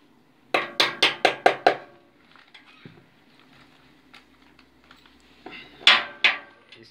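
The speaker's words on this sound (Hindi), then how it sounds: "अभी आपने इस पे ये वाले पेच लगाने, एक पेच दो" Screws are set onto a machine table during setup, heard as a quick run of six sharp metallic clinks, a quieter stretch of faint handling and rattling, then two more bright clinks, close and dry.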